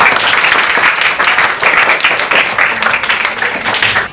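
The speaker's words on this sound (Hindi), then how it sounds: "तो ताली बजा दीजिए इसके लिए।" Schoolchildren in a classroom at New Kids Care Public School in Padma, Hazaribagh, clap together loudly and close by, a brisk, slightly pulsing round of applause that continues throughout.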